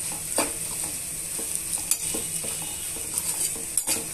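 A spoon scrapes and clicks through a vegetable fry seasoned with salt in a pan, irregular stirring knocks over a soft steady sizzle, close and without speech.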